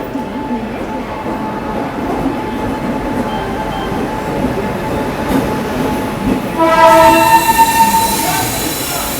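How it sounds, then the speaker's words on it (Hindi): Train 12566 Bihar Sampark Kranti Express arrives at New Delhi station under a loud, constant rolling rumble, then a sustained horn blast near the end rises clearly above the noise. "ट्रेन का जब अराइवल होता है।"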